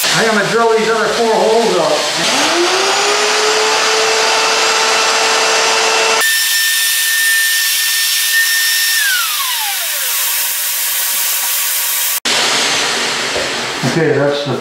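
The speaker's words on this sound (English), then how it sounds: "I'm going to drill these other 4 holes up." Power drill boring four more holes in a walnut copper river bridge table build, a loud continuous motor whine with changing pitch, a steady middle stretch, a wind-down, then the drill revving again near the end.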